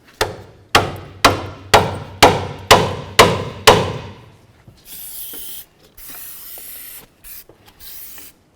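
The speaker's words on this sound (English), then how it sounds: "we're going to spray some penetrant in here to help it come free" After eight sharp metallic hammer strikes on a front CV axle of a 2004-12 Volvo S40, several short hissing bursts of aerosol penetrant spray follow, close and clear, with no voices.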